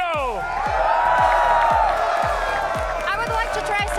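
Large arena crowd cheering and shouting at an esports finals in Rio de Janeiro, Brazil, a loud sustained roar with steady rhythmic drumbeats pounding underneath and whistles rising near the end.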